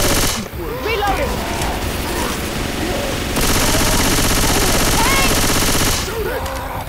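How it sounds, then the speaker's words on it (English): Sustained automatic gunfire in Left 4 Dead 2, rapid dense bursts that swell louder midway and then ease off, with in-game voices calling out over the shooting. "Keep shooting! Don't stop shooting."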